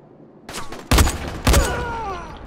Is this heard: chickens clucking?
no